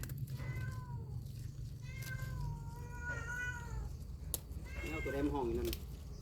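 A cat meows several times in a row, fairly close, with rising and falling calls, over a low background hum; people talk quietly nearby.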